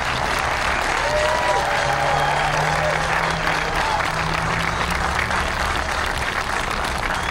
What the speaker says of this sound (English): How about a big round of applause for these young people?